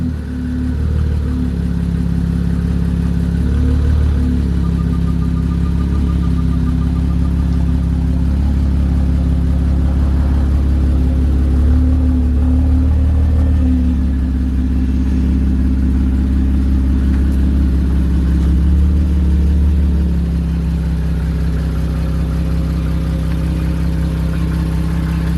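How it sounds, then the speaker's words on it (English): Nissan Q50 Red Sport with a twin-turbo VR30 V6 and a new Nismo exhaust, running at a steady idle, a loud, even, low rumble held close for the full length with no revving. "This exhaust is not loud at all."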